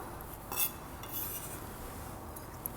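Knife roughly chopping fresh cilantro on a cutting board for vegan breakfast tacos, a few soft irregular taps and scrapes against the board, close and quiet over a low room hush.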